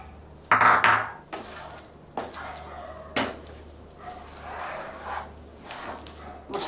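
Spice mix being stirred into a pot of Bengali sour berry (kul) pickle, a few loud scraping clatters of a spoon against the pot followed by softer intermittent stirring scrapes, close by.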